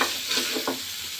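Fish frying in a pan, cooked until lightly charred, giving a steady faint sizzle with a couple of brief stirring scrapes, no voices.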